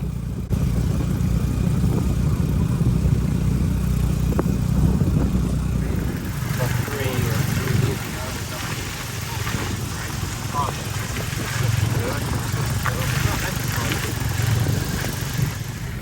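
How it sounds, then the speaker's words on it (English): A motorbike engine drones steadily throughout, with a shifting note as it travels through streets near the Mekong River, plus road and wind noise around it. "I'm going to let you just enjoy it with the sound of a motorbike."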